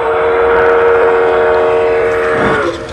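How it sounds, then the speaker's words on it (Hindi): A railway exhibit train producing a loud, steady mechanical rumble with a sustained whistle-like tone that shifts and fades near the end, heard alone and close. "कमाल की प्रदर्शन रेलवे आवाज़ भी कर रही है, गजब रेल की जैसी आवाज़ कर रही है।"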